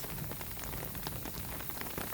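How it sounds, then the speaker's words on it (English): Steady rain falling during a backpacking hike to the Cirque of Towers in Wyoming, a dense continuous hiss of drops pattering on surfaces close by, with no talking. "even though it's still raining, it's not hailing"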